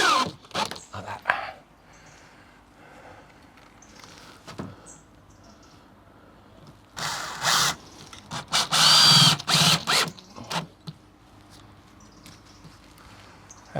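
A power drill drives screws at an angle into wooden joists during a workshop build, in short whirring bursts with a longer loud run near the end, separated by quiet pauses and a little handling noise.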